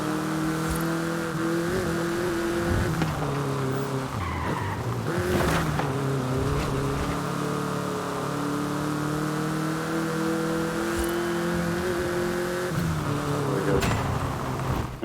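A Volkswagen Beetle (Vocho) racing in Forza Horizon 5 in Mexico, its small engine droning steadily through gear shifts, with repeated tire skids and squeals close and loud throughout.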